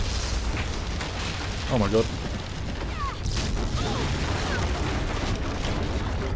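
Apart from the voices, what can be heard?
explosions on a ship in The Walking Dead video game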